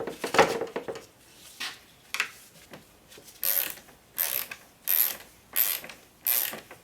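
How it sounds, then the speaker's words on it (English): A ratchet tightens the cooling fan bolt on a car during a radiator replacement, clicking in short repeated bursts, about eight strokes spaced roughly half a second apart, close and clear. "So now I'm gonna tighten the fan bolt."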